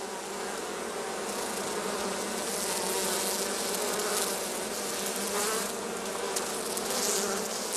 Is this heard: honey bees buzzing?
yes